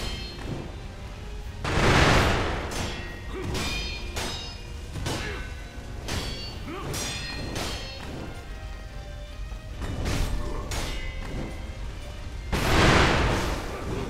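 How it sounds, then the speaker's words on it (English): Firecrackers burst during a Sekiro boss fight, with loud repeated cracks and booms clustered in bursts over a dense, rumbling game soundtrack. "we cannot stay in the firecrackers."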